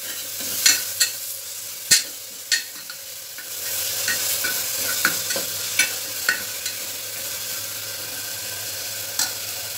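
Green chili, coriander, garlic and coconut paste stirred into chana masala in a pan, with a steady sizzle under repeated scraping clicks of the spoon against the pan, close and fairly loud.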